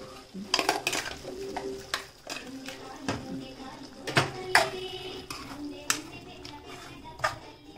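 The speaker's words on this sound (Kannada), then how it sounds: "ಹಸಿ ವಾಸನೆ ಹೋಗೋವರೆಗೂ ಸ್ವಲ್ಪ ಫ್ರೈ ಮಾಡೋದು" Spice masala frying in a pan while a spatula stirs it, clattering scrapes and knocks against the metal in an irregular rhythm over a low sizzle, close by, with occasional speech in the background.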